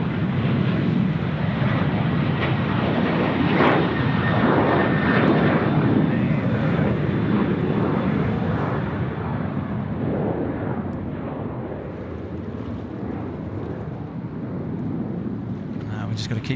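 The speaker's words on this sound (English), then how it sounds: "Sri Lankan touching down 3-4 left. The A330 300." A Sri Lankan Airbus A330-300 airliner touches down on runway 34 left at Sydney Airport, giving a loud, sustained broadband engine roar that slowly fades, heard from nearby over a person speaking.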